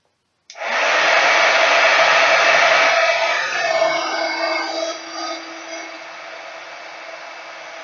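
A handheld heat tool blows a steady loud rushing whoosh close by while drying a dusted, embossed glass flower, switching on abruptly and holding for several seconds before easing slightly.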